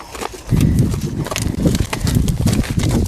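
A horse's hooves clop steadily and close by during groundwork training, in an irregular stepping rhythm with no talking.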